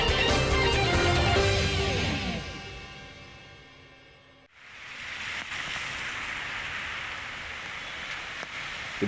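Heavy rain over a traditional market in Kabupaten Banjar, South Kalimantan, during flooding: a dense, steady hiss that takes over once a musical sting fades out midway.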